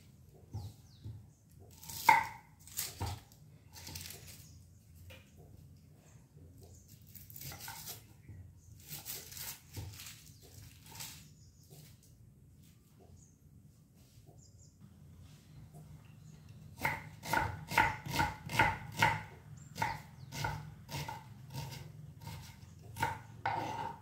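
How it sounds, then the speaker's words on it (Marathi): Small onions being finely chopped with a knife on a board for a cauliflower dry vegetable dish, heard as scattered knife taps early on, then a dense run of quick, close chopping strokes near the end over a low background hum. "कांदा छानपैकी बारीक कापून घ्यायचा आहे"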